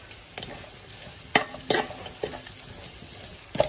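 Vegetables with green chillies fry quietly in a pan for matar paneer pulao, with a faint sizzle broken by several sharp clinks and scrapes of a stirring spoon.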